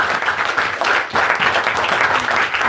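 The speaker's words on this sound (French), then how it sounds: "Applaudissons pour le Seigneur." A church congregation applauds together, loud close clapping that swells and surges in waves for a couple of seconds.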